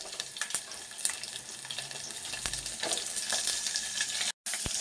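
Small onions sizzle and crackle in a pan with cumin and green chillies for a wedding-style drumstick sambar. The close, steady frying hiss is broken by a few stirring clicks and a brief cut near the end.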